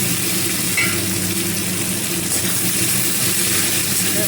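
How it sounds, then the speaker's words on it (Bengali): Chopped onions frying in about four spoons of oil with whole cumin in a pan, a steady broadband sizzle running unbroken and fairly loud throughout, with a faint low hum underneath and no talking. "পেঁয়াজগুলো একটু ভেজে নেব।"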